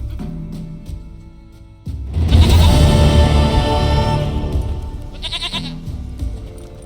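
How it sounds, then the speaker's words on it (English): A goat bleats loudly and repeatedly in The Witcher 3, a wavering cry that swells after a quiet start and fades, with a shorter bleat near the end. "Goat of mine, dearest,"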